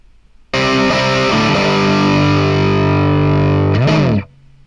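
Distorted electric guitar played through a miked cab with one microphone's phase flipped, a loud sustained chord ringing for several seconds, then a quick bending slide before cutting off.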